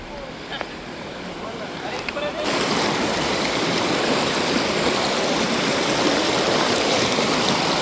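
A large monsoon-swollen river in rural Konkan rushes in a loud, continuous broadband roar that swells sharply after a quieter start, with voices speaking nearby.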